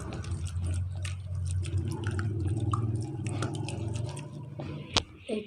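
Chicken drumsticks are hand-mixed with chili powder, chopped chilies and salt, giving wet squelching and sticky squishing with small clicks, close up, ending in a sharp tap.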